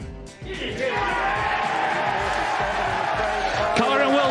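Crowd at the Crucible snooker venue swelling into loud, sustained applause and cheering as a 147 maximum break is completed, a broad continuous roar that rises after a brief dip and holds steady to the end.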